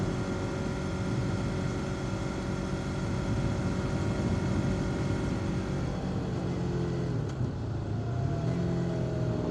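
Yamaha MT-03 motorcycle accelerating up onto a highway, a steady loud engine drone with wind rush that holds throughout, pitch dipping briefly and then climbing again as it speeds up.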